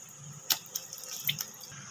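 Eggplants being rinsed under a running kitchen tap give a soft, faint trickle of water with a few light splashes and taps as the vegetables are handled, close by and quiet.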